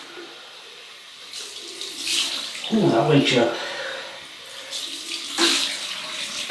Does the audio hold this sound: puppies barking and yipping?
no